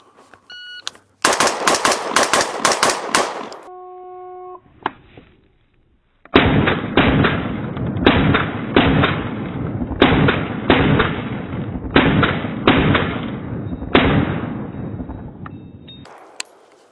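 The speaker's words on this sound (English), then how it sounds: "we're going to be shooting here. And then I got a 200-yard target right there." Rifle fire at targets on a multigun practice range, including a 200-yard target: a first string of rapid, loud shots, a few electronic beeps, then a long volley of closely spaced shots up close with brief pauses between groups.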